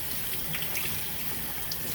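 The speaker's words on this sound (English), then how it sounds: "I put water in that little saucepan" Water streams into a small saucepan, an unbroken close splashing rush with a slightly hollow ring from the pan.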